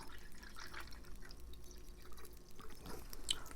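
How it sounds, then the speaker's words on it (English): Water trickling and dripping from a small spout onto soil around a newly planted mangrove, soft and close, with irregular splashes and a faint steady pour. "And then we're going to add water."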